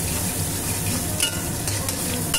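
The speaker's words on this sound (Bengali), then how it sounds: "এবার পেঁয়াজটা ভালো করে একটু লাল লাল করে ভেজে নিয়ে দিয়ে দিব মাংস" Chopped onion frying in sunflower oil for a spicy country chicken curry, giving a loud, dense, unbroken sizzle close up with a few faint spoon scrapes near the end.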